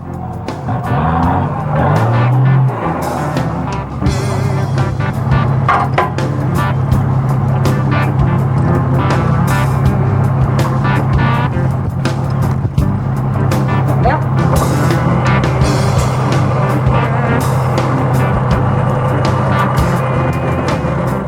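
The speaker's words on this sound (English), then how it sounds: "A modified 75 series Land Cruiser is Team 9, Grant Guy and Gerard Murray from Wellington" A modified 75 series Land Cruiser off-road truck drives through an off-road challenge in New Zealand, its engine a steady, loud, low drone with clunks and rattles throughout, under occasional talk.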